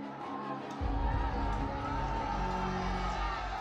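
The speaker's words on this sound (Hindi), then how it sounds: "नारेबाजी तेज होती दिखाई पड़ती है।" Large street crowd at a Delhi intersection during the Jahangirpuri unrest, a dense swell of shouting and chanting that rises sharply after a moment and stays loud, with distant voices mixed in.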